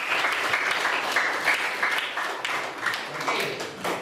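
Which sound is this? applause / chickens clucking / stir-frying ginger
applause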